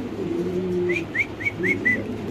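Blue bar Mundian pigeons coo nearby: a long low coo, then a run of five short rising calls and another low coo, with no voices.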